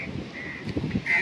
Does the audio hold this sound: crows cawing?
yes